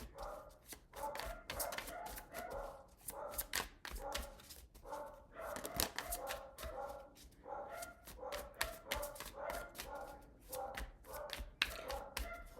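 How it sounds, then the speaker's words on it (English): Several dogs bark repeatedly in a fast, overlapping series, fairly close, with a few whimpers mixed in and no talking. "I don't know what my dogs are going crazy about."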